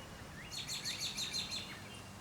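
A wild bird sings outdoors beside a lake, a run of about six quick bright chirps in a row, moderately close over a steady hiss of wind with no talking.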